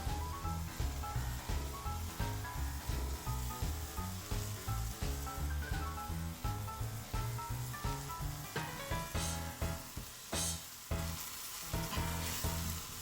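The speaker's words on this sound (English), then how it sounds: "Fry the onions and garlic for about 3 to 4 minutes and then add the minced mushrooms in." Onions, garlic and minced mushrooms frying in a pan, a loud continuous sizzle with rhythmic stirring and scraping running through, close and alone with no talk.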